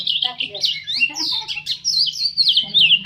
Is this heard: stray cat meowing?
no